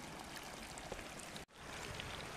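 Running water of the Rio das Cruzes stream in Ceará, Brazil, a dense steady rushing wash with a momentary dropout near the middle.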